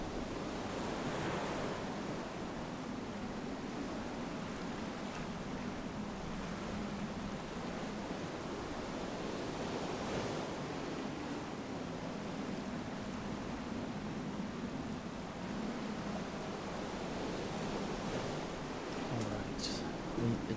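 Steady wash of ocean waves and wind rushing past a sailing boat in the video game Far: Changing Tides, continuous and fairly even throughout with no clear voices.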